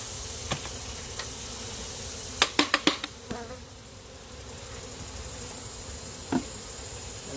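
A dense, steady drone of honey bees swarming around an opened hive during a hive split, close and continuous, with a quick run of knocks partway through as the hive equipment is handled.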